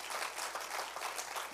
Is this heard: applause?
yes